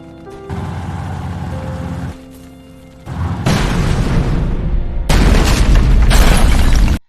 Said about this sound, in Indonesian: tank datang dan menembak gedung mereka